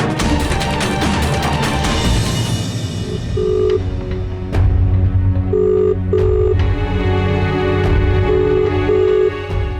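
A telephone ring tone repeats in short evenly spaced beeps over a loud musical background, with dial-like tones near the start.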